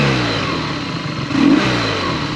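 BMW R nineT motorcycle engine fitted with a Jekill & Hyde exhaust, revved close by with a steady deep drone and a brief rise in pitch partway through.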